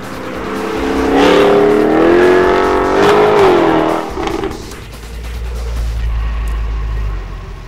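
A Jaguar F-Type V8 accelerates hard along empty, twisty Spanish roads, its engine note rising loud and close through the gears, then easing off into a lower rumble.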